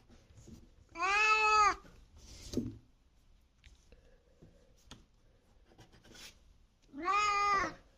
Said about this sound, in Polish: O, się kot też niepokoi.